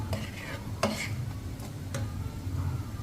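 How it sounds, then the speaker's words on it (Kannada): A light sizzle of spice tempering crackling in a pan in a home kitchen in Dubai, with a few sharp ticks and clinks over a low steady hum. "ಈಗ ಒಗ್ಗರಣೆ ಕೊಟ್ಕೊಂಡ್ಬಿಡ್ತೀನಿ"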